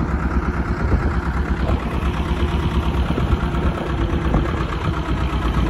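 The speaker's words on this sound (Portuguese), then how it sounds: "Teve que dar uma partida no motor aqui" A boat motor on a fishing trip with live shrimp bait runs steadily close by, a constant low rumbling drone with no pauses and no talking over it.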